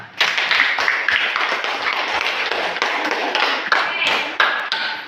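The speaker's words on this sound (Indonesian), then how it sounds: "berikan aplaus." Students clapping together in a classroom after a group presentation, a dense sustained patter of many hands from start to finish with a few sharper claps standing out.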